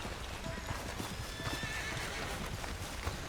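Horse hooves clip-clopping and a whinny in the video game Red Dead Redemption 2, a quiet, busy patter of hoofbeats with a neigh, under faint game background sound.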